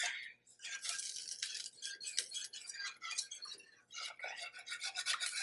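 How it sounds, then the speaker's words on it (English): A whisk scrapes and swirls through biscuit gravy in a pan in a steady, brisk rhythm of bright rubbing strokes, with one brief pause, heard close and alone. "we're just gonna go ahead and whisk this in there"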